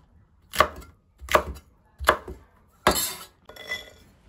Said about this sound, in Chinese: 再把辣椒切成小段